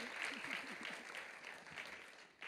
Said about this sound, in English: Let's please give this amazing panel another big, big round of applause.